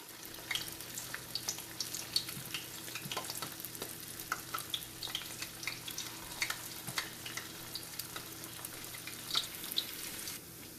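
Quiet, steady sizzling and bubbling of battered broccoli deep frying in hot oil, with faint crackles and pops and a low background hum.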